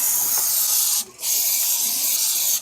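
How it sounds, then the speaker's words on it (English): Crisco cooking spray hisses onto a pan in two close, loud bursts separated by a brief pause, a steady airy spray with no voices. "We're going to spray our pan"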